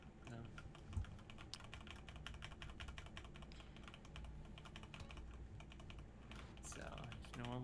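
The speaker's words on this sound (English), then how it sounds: "Man, my keys are loud." Loud clacking of computer keyboard keys typed in a steady rapid stream during a GTA San Andreas speedrun session, close to the mic, with some background game sound and occasional talk.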